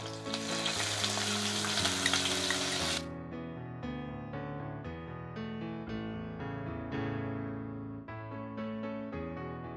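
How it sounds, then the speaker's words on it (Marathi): Cumin, chillies and finely chopped cucumber hit a hot pan for sabudana khichadi, giving a loud hissing sizzle for about three seconds over background music, which then continues alone. "जिरे घालू, मिरची टाकू, आणि बारीक चिरलेली काकडी."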